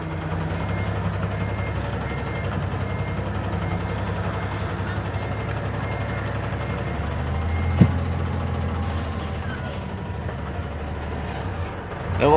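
A six-wheel truck rumbles steadily nearby with a low, continuous engine drone, one brief sharp knock partway through, and no voices over it.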